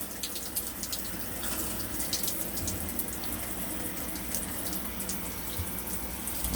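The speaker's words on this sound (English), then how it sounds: "Oh yeah, she's draining good." Water mixed with pink antifreeze drains steadily during winterizing, a continuous close splashing and trickling flow with no talking.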